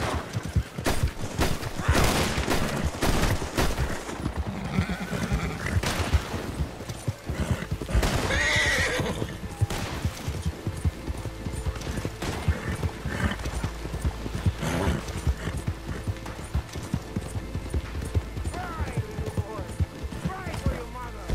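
Horse hooves clip-clop and a horse neighs in a Red Dead Redemption gameplay scene, with gunfire bursts scattered through a busy game soundscape and someone talking over it.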